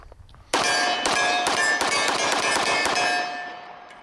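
A 1911 pistol magazine handled up close gives sharp metallic clanks and a ringing, steady metal rattle for about three seconds, which then fades out.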